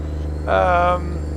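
In the video game American Truck Simulator, a Kenworth W900 truck's steady, low engine exhaust drone hums throughout, swelling briefly into a louder, throatier rev in the middle before settling back.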